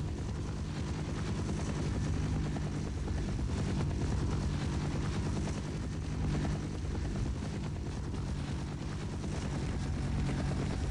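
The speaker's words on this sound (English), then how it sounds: "Am I gonna have to fight a helicopter right now?" Helicopter in the video game Half-Life, a steady rumbling rotor drone that fills the whole stretch at a moderate, constant level with no talk.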